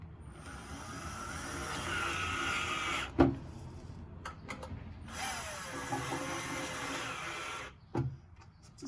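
A hand ratchet snugs the lower oil pan bolts on a BMW E39 540i, giving a steady clicking pawl run that stops with a sharp knock near the middle, picks up again and ends with another brief knock.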